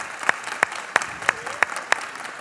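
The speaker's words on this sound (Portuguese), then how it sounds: "Vamos recebê-los com uma salva de palmas." A church congregation claps in a steady rhythm at a Christmas service, with six evenly spaced strong beats over a background wash of crowd applause and some faint voices.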